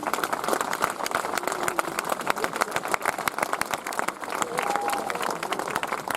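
A crowd gathered in support of the SAM factory workers bursts into sustained, dense applause that stays loud and steady throughout, with some murmured voices mixed beneath the clapping.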